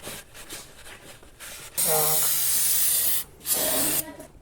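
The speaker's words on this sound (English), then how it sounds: "So clean up the valve cover as well as you can. Use some brake clean." Brake cleaner sprayed onto the valve cover of a Toyota Corolla 1.8L 1ZZ-FE engine, two sharp close aerosol hissing bursts, a long one followed by a shorter one, with quiet movement before.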